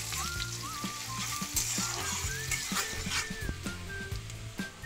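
Onion dropped into hot oil already tempered with half a teaspoon of cumin, crushed garam masala and two dry red chillies, giving a steady close sizzle with bursts of spitting and stirring throughout.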